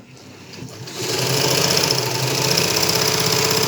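A Union sewing machine with a pedal runs up from quiet into a steady, smooth mechanical whir with fine rapid ticking, close and continuous, with no talking over it.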